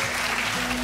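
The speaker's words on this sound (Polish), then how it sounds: "Wielkie brawa!" Quiz-show audience applauding at a Europe knowledge test event, a short dense burst of steady clapping filling the hall with no pause.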